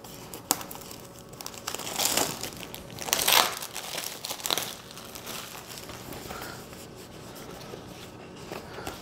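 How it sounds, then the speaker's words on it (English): Pre-scored cellophane wrap being peeled off a DJI Osmo Mobile 2 box, giving close crinkling and rustling in a few louder bursts that settle into softer continuous handling noise. "I actually went ahead and pre-scored the cellophane to make that easier to take off."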